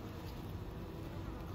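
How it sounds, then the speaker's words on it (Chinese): Honeybees from a wild colony kept in a city buzz steadily as they fly back to their hive, a soft, continuous drone with no voices over it. "那你看它这只 这一群的蜜蜂啊，在进网片之前啊飞回来"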